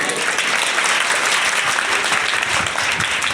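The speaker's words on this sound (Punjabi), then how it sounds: "ਜੇ ਵਧੀਆ ਲੱਗੀ ਤਾਲੀ ਜ਼ਰੂਰ ਲਾ ਦਿਓ" An audience of students and school staff claps loudly and steadily, dense applause filling the whole moment without pause.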